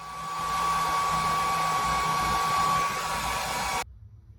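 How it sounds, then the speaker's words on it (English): Hair dryer used to heat set paint on a fishing lure, a loud steady blowing whine with a constant tone that runs for several seconds, then cuts off abruptly near the end. "you heat set the paint before you take off the mesh"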